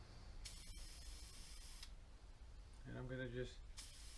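Spray paint or coating misted lightly onto a part of a 1970 Sony STR-6045 stereo receiver during restoration, a short hissing burst near the end, with someone talking before it.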